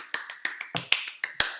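A person claps hands in a quick irregular run of about ten sharp, close, dry claps over under two seconds, loud and alone.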